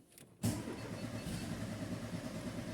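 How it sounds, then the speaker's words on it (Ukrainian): A car engine cranks and catches abruptly after a quiet moment, then settles into a steady, moderately loud idle during a MAP sensor check on an engine with an intake air leak. "Давайте запустимо двигун."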